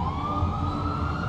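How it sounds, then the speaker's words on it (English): An ambulance siren wails with a rising electronic tone over low traffic rumble, steady and moderately loud throughout the short stretch. "Unconscious, Cologne was rushed by ambulance to the hospital"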